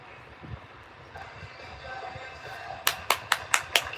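A short burst of five sharp hand claps in quick, even succession, preceded by a low murmur of room noise.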